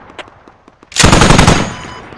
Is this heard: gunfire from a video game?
yes